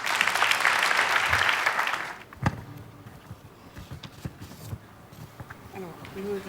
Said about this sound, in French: je vous demande d'applaudir très très fort pour la charmante Amina Silla